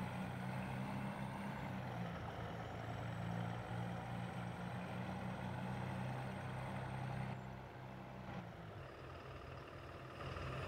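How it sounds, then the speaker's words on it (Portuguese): A low, steady Scania 113 Streamline truck engine rumble from World Truck Driving Simulator idles smoothly in the background, soft and continuous, with a slight drop in level near the end. "vocês vai conseguir escutar o ronco do caminhão, né? Mas é um ronco bem suave"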